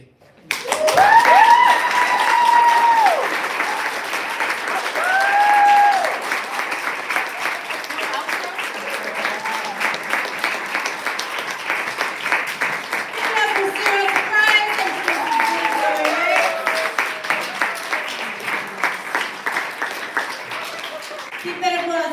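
A live audience at a poetry and performance event applauds, dense sustained clapping with cheers and whoops rising over it while people speak and call out throughout.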